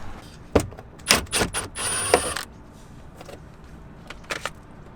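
Bolts being undone on the rear brake cover of a BMW X5 (E70): a series of close metallic clicks, clinks and scrapes from tools, with a longer cluster near the middle and a few scattered taps later, no talking.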